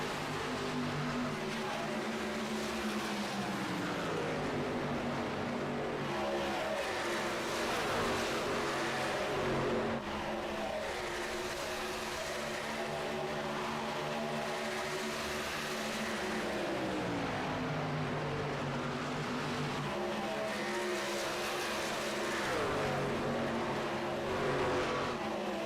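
Race cars roar around the oval at Charlotte Motor Speedway in a rookie series event, several engines droning and shifting pitch together as the pack runs close, sometimes three wide, loud and steady throughout.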